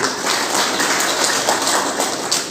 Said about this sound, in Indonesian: Tepuk tangan buat Mbak Ari.